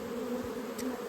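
Agitated honey bees buzz at a mountain hive in a dry, hot season, no smoke in use, giving a faint steady hum of many wings close by, with no voices.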